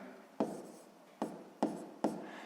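A pen writes a math expression for a sixth-grade fractions exercise, giving four soft, scratchy strokes close to the mic, each a quick tap followed by a short rub, with no voice present.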